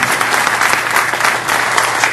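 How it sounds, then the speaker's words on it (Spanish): A hall audience at a judges' association event breaks into strong, sustained applause, loud and close, with many hands clapping at once and no speech on top. "para quienes solicitamos un fuerte aplauso"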